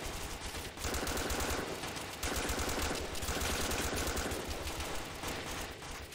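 Sustained bursts of automatic gunfire from the Joint Operations: Combined Arms video game, dense and rapid, dipping briefly between volleys before resuming at a steady loud level.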